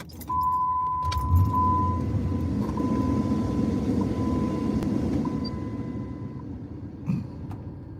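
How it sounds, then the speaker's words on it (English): Pickup truck engine cranking and catching, then idling steadily outdoors in the cold, with a faint jangle of keys at the start and a steady tonal whine over the idle. "I'm about to start my damn truck."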